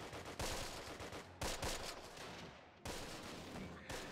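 Several MG42 machine guns rattle in a Close Combat wartime battle, sustained loud bursts of rapid fire broken by brief gaps, with no talk over them.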